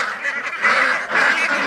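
Ducks or geese in a flock crowd in to be hand-fed on a trip through Vietnam, giving loud, continuous honking calls with two rising bursts, close by and without talk.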